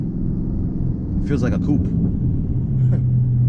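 A 2019 Dodge Charger Scat Pack engine rumbles low and steady from inside the cabin while driving, with someone talking over it briefly.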